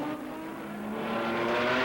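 Porsche 917 race car with its engine droning loudly and steadily, tone rising slightly as it builds revs, close and continuous with no talk.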